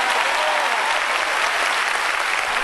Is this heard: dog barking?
no